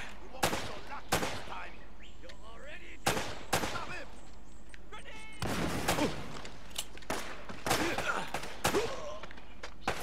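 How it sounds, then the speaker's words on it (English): Enemy gunfire aimed at the player in the action game Uncharted: Drake's Fortune: repeated sharp shots in scattered bursts, some close and loud, over a low ambient bed with faint bird-like chirps between volleys. "Who is shooting me?"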